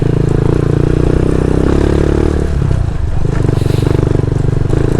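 Motorcycle riding over a rough trail of thick sand in the mountains of Porac, Pampanga: a loud, continuous engine drone mixed with rattling clatter that wavers midway, with no talking.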